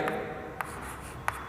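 Pen or marker writing on a surface during a class lesson: a faint continuous scratching with three brief sharp taps, close and quiet, without talk.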